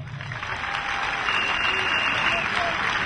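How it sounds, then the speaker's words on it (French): Audience applause at a political talk, a dense, steady wash of clapping that stays close and fairly loud throughout with no pause. "Il faut applaudir ça."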